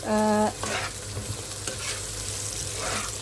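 One and a half onions sautéed in a pan until soft, a close steady sizzle with scraping stir strokes and a brief tonal hum at the start.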